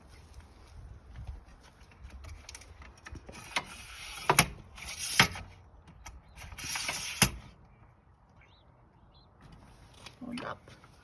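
A folding awning arm is pushed into position, giving a few sharp metallic clicks and rattles spread over several seconds amid quiet handling noise, with a voice faintly present.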